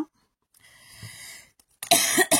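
A single cough during a scrapbooking craft session, a short burst near the end of the clip after quieter noise, close and fairly loud with no talk.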